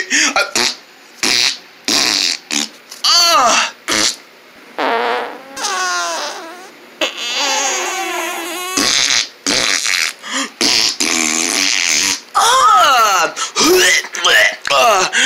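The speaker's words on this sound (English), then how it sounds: "You keep farting! Stop farting!" A child's farting comes as a run of loud, close, buzzing blasts of varying length, with bits of whimpering and voices between them.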